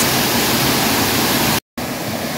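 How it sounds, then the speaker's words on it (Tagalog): Chiefan Waterfalls on the Linmei Shipan Trail in Taiwan roar as a loud, steady broadband rush of falling water, close and unbroken apart from one brief cut near the end. "At ito na nga po ang tinatawag na Chiefan Waterfalls."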